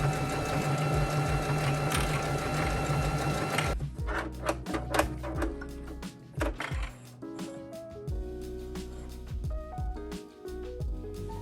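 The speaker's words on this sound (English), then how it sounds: "we're going to do that on the sewing machine using an overcast stitch" A sewing machine does overcast stitching in a steady fast burst, then stitches in shorter stop-start runs with clicks and handling noises between.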